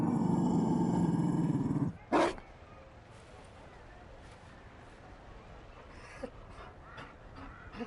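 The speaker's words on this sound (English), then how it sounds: "You found a dog." A Mabari war dog in the fantasy role-playing game Dragon Age Inquisition, growling and roaring loudly and steadily for about two seconds, then a short burst, with faint panting and quiet background afterward.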